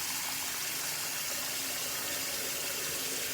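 Steady rushing spray of water wetting down hair during a haircut, a continuous close hiss that stays even throughout with no voices.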